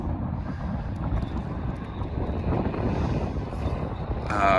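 Wind buffets the microphone outdoors during an RC crawler session, a steady low rumble filling the whole clip and swelling slightly louder toward the end, with no talking.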